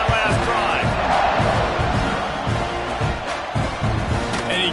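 A large football stadium crowd roars steadily at kickoff, a dense continuous wash of cheering and yelling with a broadcast announcer talking over it.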